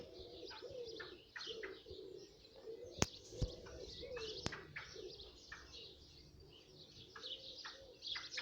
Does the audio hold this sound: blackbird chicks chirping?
yes